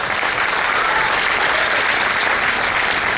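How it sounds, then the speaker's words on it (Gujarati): Audience applause at a Gujarati literature festival session for the panel of speakers, a dense, steady clapping from a large crowd that holds evenly throughout. "બધા ધુરંધર વક્તાઓ માટે એકવાર જોરદાર તાળીઓ થઈ જાય."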